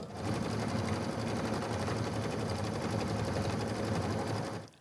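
An embroidery machine stitches a quilt, a continuous rapid mechanical chatter of needle strokes with a steady hum, close and even throughout, starting and stopping abruptly.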